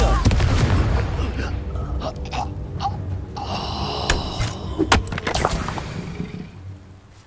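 A Confringo blasting spell goes off in Hogwarts Legacy, with booming explosive impacts and sharp cracks over a busy, rumbling game soundscape, plus a brief vocal exclamation.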